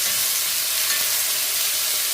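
Mint and coriander stirred into prawn biryani masala frying in a pan, a steady close sizzle and crackle of oil running unbroken throughout with no voices.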